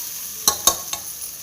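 A spoon scrapes and stirs vegetable rice with chili powder and coriander powder in a frying pan, three quick sharp strokes over a soft background sizzle.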